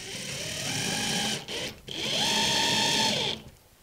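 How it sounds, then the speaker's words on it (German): A power screwdriver drives 16 mm screws into wood while mounting an LED panel frame: two sustained whirring bursts with a brief pause between, close and fairly loud, no talking. "Darum schraube ich das mit 16 mm Schrauben an."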